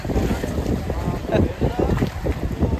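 Gusty wind roars and buffets the microphone in low rumbling bursts during a rainstorm, with muffled voices talking beneath it.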